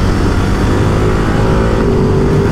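A Ducati Multistrada 950S motorcycle being ridden, a loud steady engine drone with heavy wind rush filling the whole stretch, continuous and close.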